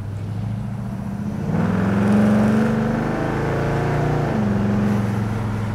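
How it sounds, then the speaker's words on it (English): A 1970 Chevrolet Chevelle V8 heard from inside while driving, the engine note rising as gas is rolled on, a steady loud rumble climbing in pitch then settling, with no talk over it. "let's turn right here and we'll give it a little bit of gas while we're rolling."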